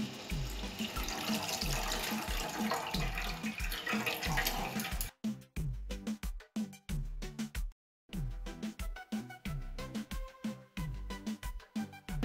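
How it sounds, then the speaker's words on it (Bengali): Cold water from a tap runs and splashes over freshly steamed vapa puli pitha, a steady stream for about five seconds followed by several shorter bursts of pouring and splashing, close and fairly loud, with no talking. "তোলার সময় একটু ঠান্ডা জল দিলে ভালোভাবে উঠবে। আমি ঠান্ডা জল দেবো একটু।"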